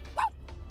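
A person imitates a tiny dog with a single short, high yip, followed by a couple of faint softer sounds in a quiet room.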